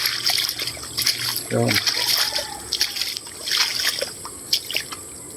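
Water trickles and splashes through a newly dug drainage canal after rain, with uneven gurgling bursts close by, and someone speaks briefly over it.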